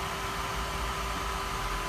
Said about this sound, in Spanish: Ese ruido que se escucha es de esta fuente que es mucho más potente sonoramente.